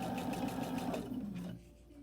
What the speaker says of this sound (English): And just stitch slowly.